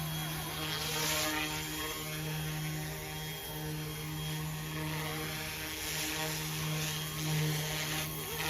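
A Carmanon Bell OH-58 RC helicopter hovers and flies nearby, giving a steady loud whine and rotor buzz with small swells in level.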